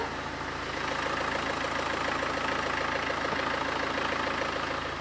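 A rebuilt car engine with 410,000 km on it idles steadily and smoothly after a home overhaul, a continuous, even hum held close and fairly loud for the whole stretch, with no voices over it.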